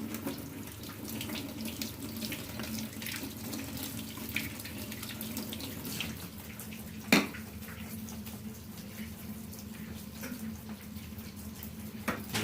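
Tap water runs steadily into a kitchen sink while a melon is rinsed under it, a soft continuous splashing stream with small clatters and one sharper knock partway through.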